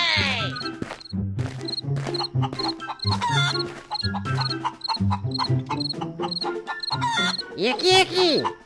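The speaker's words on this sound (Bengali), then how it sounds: "মুরগিগুলো কেমন চেঁচামেচি করছে" Cartoon chickens squawk and cluck excitedly in a coop, with dense overlapping bird-like calls, quacky bursts and crashing effects that carry right through, alongside animated sound effects.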